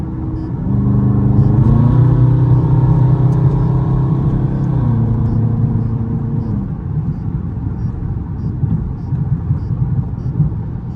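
Dodge Scat Pack driving on a highway in traffic with the windows up, its steady engine rumble rising with acceleration early on, then settling into a continuous loud cabin drone with road noise.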